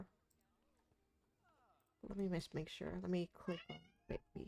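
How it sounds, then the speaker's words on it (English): A pet cat meows faintly in the background of a quiet room at first, then a person starts talking loudly over it. "I'm so sorry about my cat, you guys."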